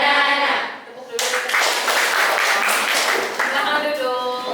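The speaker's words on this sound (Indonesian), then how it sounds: "Tepuk dulu." Classroom of pupils clapping hands in unison after a banana action song, a dense burst of claps that fills most of the moment, with voices chattering over it.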